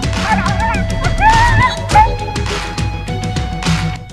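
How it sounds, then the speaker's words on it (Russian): Stray dog barking and yelping while a leopard attacks it at night, with loud, agitated yips and whimpering cries, close by and mixed with some background voices. "Собака активно защищалась и громко лаяла, чем и отпугнула леопарда."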